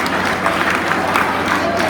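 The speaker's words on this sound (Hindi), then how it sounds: "Give a big round of applause." Students clap for an invited teacher at a Teachers Day felicitation ceremony at Kendriya Vidyalaya Khairagarh, a dense, steady wash of applause filling the hall throughout, with voices mixed in.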